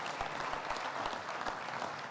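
Conference audience applause at a convention's morning opening program fills the room as a dense, even roll of many hands clapping, moderately distant, with faint low thumps scattered underneath.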